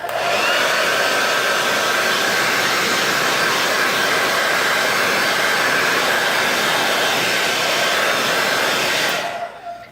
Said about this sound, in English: the blow dryer the heat from it will curl the eyelashes back